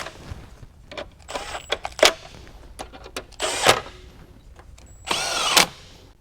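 A power tool snugs down the bolts on the plastic engine cover of a Dodge Ram 6.7L Cummins, running in several short bursts of whirring with brief pauses and one longer final run, close and fairly loud, with no talking.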